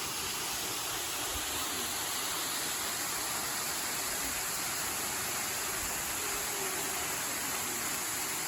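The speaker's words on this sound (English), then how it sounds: "This is Little Lion Falls." Little Lion Falls at Mohican State Park in a wet April, a constant even hiss of rushing water heard close and loud without any voices.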